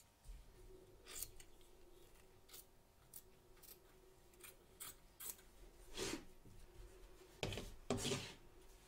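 Scissors trimming excess batting around an embroidered stitch line, a series of quiet, close snips and soft rustling cuts spread at irregular intervals, with a few louder crisp clips near the end.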